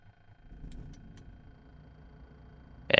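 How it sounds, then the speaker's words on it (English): An aircraft engine starts up in Microsoft Flight Simulator: a low, steady rumble and hum holds through most of the moment before a sudden loud, broad burst at the very end as the engine catches. "Go and engage the starter."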